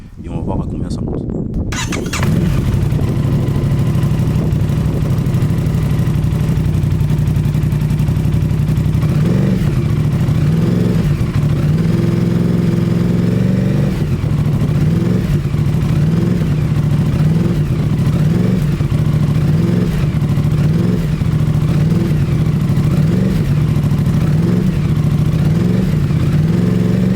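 Aprilia RS660 motorcycle with an IXRACE exhaust held at a steady idle-to-mid rev, a loud continuous throbbing drone with slight periodic surges, recorded close up after a brief startup.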